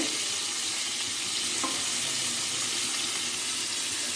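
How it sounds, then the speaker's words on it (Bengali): Bitter gourd frying in a pan for a recipe with shrimp, a steady, broadband sizzle that holds evenly for about four seconds with no voices over it. "বেশি ভাজতে হবে না এক মিনিটের মতো ভাজলেই হবে"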